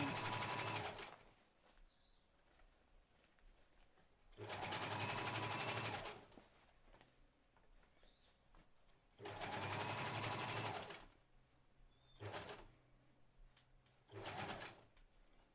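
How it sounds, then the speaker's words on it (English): Sewing machine stitching around a thick jeans seam in bursts of rapid whirring, with quiet pauses between runs, and pigeons cooing faintly in the background. "Now it's just a matter of sewing around to the next seam."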